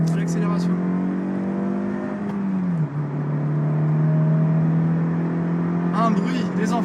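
A Honda CR-Z accelerating on the road, its engine drone steady and close from inside the car, dipping briefly at a gear change before climbing again, with no talking over it.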